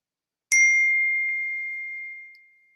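A single clear phone text-message notification ding rings out alone against silence, a bright chime that lingers and slowly fades.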